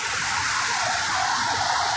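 Steady rushing water of a flash-flooded forest river in the Kotagiri hills of the Nilgiris, a continuous broad hiss of flowing water, close and even with no voices.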